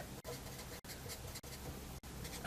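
A teacher writes a word on a board, a run of close scratchy strokes broken by four short pauses, moderately quiet with no talk.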